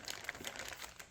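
Plastic bag from an ITALERI M110 self-propelled howitzer model kit, holding two sprues, crinkles as it is handled close by in a steady, continuous rustle with a few sharper crackles.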